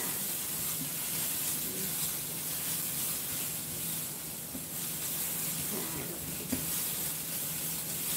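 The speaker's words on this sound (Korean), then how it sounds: "저는 이렇게 이제 호박을 채 썰어가지고 살짝 볶고 있습니다" Julienned zucchini, lightly salted, sizzles in a hot pan with a steady, loud, continuous hiss that barely changes throughout.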